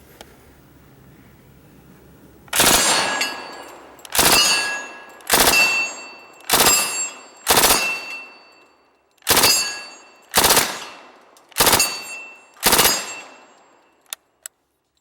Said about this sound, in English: You hit all 3 plates on one of your bursts.